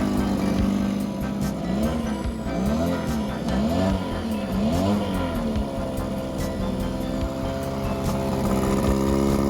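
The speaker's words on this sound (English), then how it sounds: "boat motor is running perfect. Started right up." A vintage 1961 Mercury Merc 60 6HP outboard motor on a 12-foot boat drones steadily and loudly throughout, with a rising and falling pitch wobble early on, no voices.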